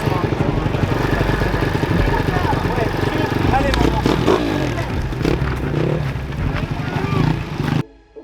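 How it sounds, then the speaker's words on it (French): A motorcycle engine revs and drones steadily at close range on a race track, with a rough clattering texture, before cutting off abruptly near the end. "À 5 minutes du dernier, Sagné peut repartir pour tester sa moto et signer son meilleur chrono."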